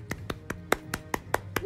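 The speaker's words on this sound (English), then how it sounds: "little tiny golf clap" A little golf clap: eight light, evenly spaced hand claps at a quiet, close, polite pace with no talking over them.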